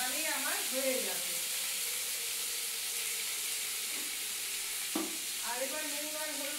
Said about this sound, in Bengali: কালো দিয়ে কাঁচা লঙ্কা দিয়ে আর সামান্য নুন আর হলুদ দিয়ে ওটাকে লাল লাল ভাজবো